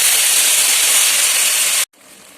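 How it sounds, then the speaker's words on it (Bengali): Water poured into a hot pan of spiced banana flower curry erupts in a loud, close, steady hissing sizzle that cuts off abruptly, leaving a softer simmering hiss. "এরপর দিয়ে দেবো সামান্য একটু জল"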